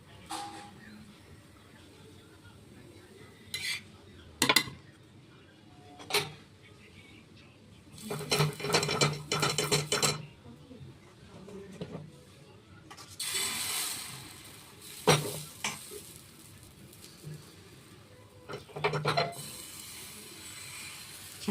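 Metal tongs turning a griddle pan while frying pitha: scattered scraping clanks and rattles in short clustered bursts, near and fairly loud, with quieter gaps between.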